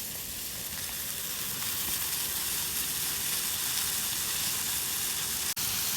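Salmon in foil warming over a campfire in the wilderness, giving a continuous close sizzling hiss that holds steady throughout with no talk.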